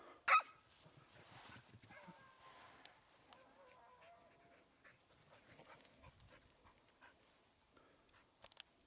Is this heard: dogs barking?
yes